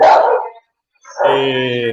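Small dog barking angrily nearby at an indoor public gathering: a harsh bark, a brief silence, then a longer high-pitched yelping bark.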